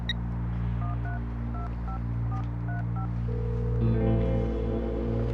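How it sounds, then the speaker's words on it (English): A telephone being dialed: a run of short, evenly spaced keypad tones beeping over a steady low hum, followed by a shift in the background noise. "I have to make a phone call for work."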